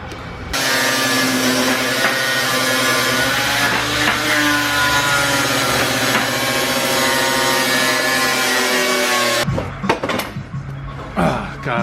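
A power tool cuts through a metal washer or sheet while angling through the material, giving a loud, steady grinding rasp for about nine seconds before stopping, with a few clanks and handling noises afterward.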